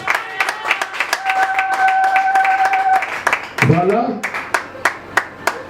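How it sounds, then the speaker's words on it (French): A church congregation claps in praise of Jesus, with rhythmic handclaps that grow sharp and steady toward the end, over a sustained musical tone and a speaking voice. "Acclamons le Seigneur Jésus-Christ"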